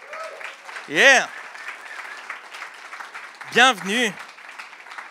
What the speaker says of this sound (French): Est-ce qu'on peut applaudir puis encourager notre invité qui est Mick?